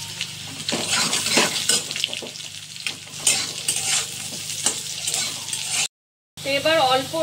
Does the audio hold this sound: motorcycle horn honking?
no